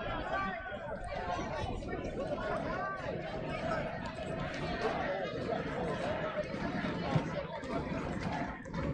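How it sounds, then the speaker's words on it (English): Crowd noise at a 2018 SMU versus UCF college soccer match, a steady dense babble of many voices from the stands with rhythmic chant-like swells, continuous and moderately distant. "Crowd chanting."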